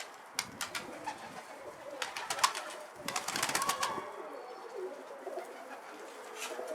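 Several pigeons coo near and far in a loft or rooftop setting, soft repeated low calls layered over flapping and shuffling, with no talk over them.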